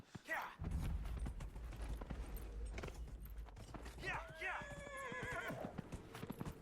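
A horse gallops and neighs in the video game Dragon Age: Inquisition, rapid clip-clop hoofbeats followed by a loud whinny, with someone talking over the game audio.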